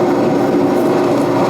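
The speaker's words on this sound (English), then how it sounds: "Today we'll be focusing on the train." A Chicago elevated L train rolls past, giving a loud, continuous roar that stays steady throughout, with no speech.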